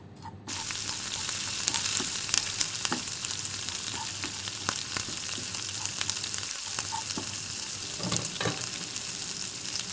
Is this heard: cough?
no